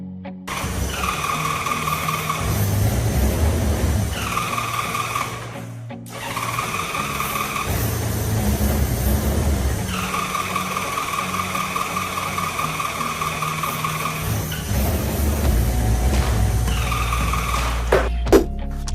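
A Honda Gold Wing GL1500 motorcycle engine struggles to start, with repeated cranking and sputtering bursts broken by short pauses, heard up close.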